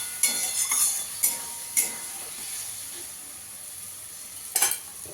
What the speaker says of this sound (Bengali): এবার ভালো করে মশলাটাকে কষিয়ে নিতে হবে বন্ধুরা।